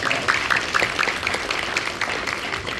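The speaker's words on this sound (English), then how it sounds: "give him a round of applause" Audience applause at a National League of Cities event honoring a fire chief: steady, dense clapping from a room of people, fairly loud and continuous throughout with no talk over it.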